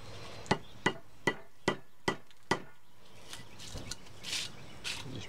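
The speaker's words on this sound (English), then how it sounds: "I just take a chisel and take a hammer to it." Six sharp hammer-on-chisel strikes in a steady rhythm chip thick pitch off a roof lap, each a crisp, close, ringing crack, followed by quieter faint scraping and rustling.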